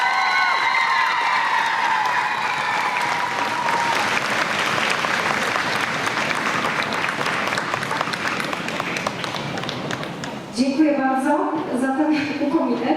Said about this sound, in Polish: tej pani należą się największe brawa